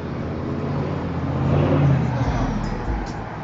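A Chevy on custom rims rolls past at a Brooklyn car show, its engine swelling nearby and then receding, with people talking over the traffic noise.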